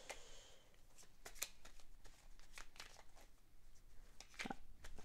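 Tarot or oracle cards are shuffled close up in a quiet room, giving repeated soft riffling and flicking bursts with a few sharper snaps of card against card.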